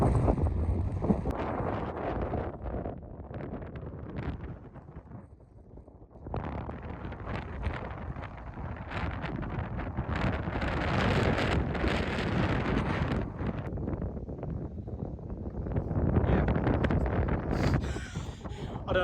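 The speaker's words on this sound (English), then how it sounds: "As you can probably hear, very windy today." Strong wind buffets the microphone on a links golf course in Ireland, a loud rumbling gust noise that surges and eases, nearly drops out briefly, then builds again.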